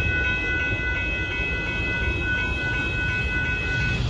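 A northbound Union Pacific mixed freight train with a trailing Ferromex locomotive rolls past at Dittmar Road in Austin, a steady rumbling wash of wheels and cars with a faint high squeal, continuous and moderately distant with no speech.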